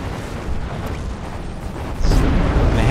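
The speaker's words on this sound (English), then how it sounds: "Alright, so we've got artillery firing off." Artillery in the game Planetary Annihilation fires continuously as dense, rumbling booms and blasts, loud and close, swelling heavier near the end.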